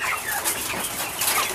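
Chickens cluck and chatter inside a poultry house, several birds close by with overlapping bright, irregular calls that run continuously at a moderate level, with no talking.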